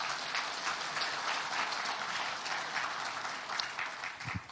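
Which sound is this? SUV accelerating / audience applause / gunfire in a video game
audience applause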